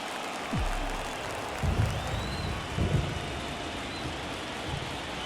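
Steady rain hiss with low rumbles of thunder from a baseball video game, a continuous wash of downpour with a couple of brief deeper thumps, no talk.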